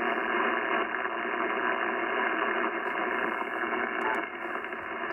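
Steady broadband static and hiss from a Yaesu FT-710 ham radio receiver with 12 dB attenuation and the noise blanker switched off, a dense continuous band-limited rush with faint crackling impulses near the end.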